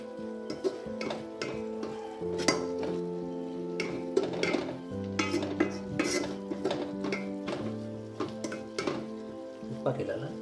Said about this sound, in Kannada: ಸ್ವಲ್ಪ ಮಸಾಲೆ ಎಲ್ಲ ಚೆನ್ನಾಗಿ ಫ್ರೈ ಮಾಡಿ